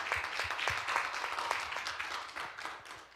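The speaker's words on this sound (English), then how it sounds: "let's give Dr. Omade a round of applause" A small audience at a parent town hall claps for Dr. Omade, a short, fairly faint burst of scattered hand claps that thins out toward the end.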